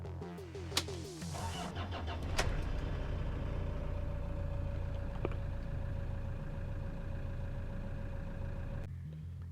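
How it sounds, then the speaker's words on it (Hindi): A Toyota Hilux Vigo with the 1KD 3.0 D4D diesel engine cranks briefly, fires up and settles into a steady, rumbling idle, heard close and alone. "ये इस गाड़ी का स्टार्टअप।"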